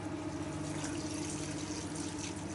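Homemade wine is poured carefully from one container into another, a soft continuous trickle of liquid, faint and steady with no voices.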